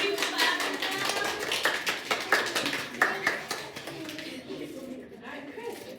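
A small group claps along to a children's church song in a room. The claps come in sharp, rhythmic bursts at first, grow sparser and stop by the end, and voices are heard underneath.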